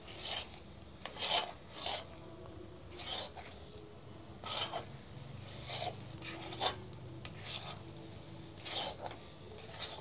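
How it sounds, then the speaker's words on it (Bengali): A thick barfi sandesh mixture being stirred in a pan, with repeated scraping and rasping strokes at an uneven rhythm, close and moderately loud, with no talk. "আর একেবারে গাঢ় বানিয়ে ফেলবো এরকম নাড়তে নাড়তে"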